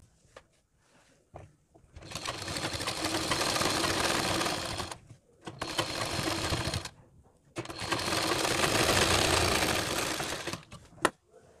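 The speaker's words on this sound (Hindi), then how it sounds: "अब हम इस पर कन्नी की सिलाई लगा देंगे" A sewing machine runs in three long steady bursts, whirring loudly while it stitches the edge of a net fabric sleeve frill, with brief pauses and clicks between runs.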